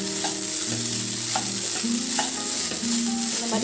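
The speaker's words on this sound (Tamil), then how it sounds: "அதெல்லாம் வந்து கரண்டியால் இந்த மாதிரி லைட்டாக கொத்தி விட்டிங்கன்னா எல்லாமே பொடி பொடியாக ஆகிடும்." A ladle stirs and chops crumbled idli pieces in a hot pan while making idli upma: a continuous frying sizzle with repeated light knocks and scrapes, close and alone.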